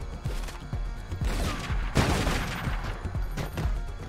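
Assault rifle fire in Tomb Raider: Legend, a string of sharp shots in fairly quick succession over a busy, continuous game soundscape, with one heavier burst in the middle.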